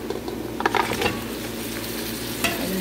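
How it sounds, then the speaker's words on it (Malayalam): Mutton head pieces go into a pan of browned onion and fry, a close steady sizzle broken by clustered stirring clinks and scrapes near the start and one more later. "അപ്പോൾ അതിലേക്ക് കഷ്ണങ്ങളാക്കി വെച്ച തല ഇട്ട് കൊടുക്കുന്നു"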